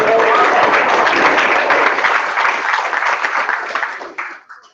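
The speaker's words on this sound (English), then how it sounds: "Give them applause." Audience applause at a Woodlands Chamber of Commerce after-hours gathering in a Ferrari showroom, dense and steady clapping from a room of people that thins and tapers off near the end, with some voices mixed in.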